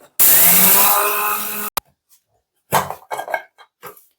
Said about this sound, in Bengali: চিনিটা আমি মিক্সারে গ্রেড করে নিচ্ছি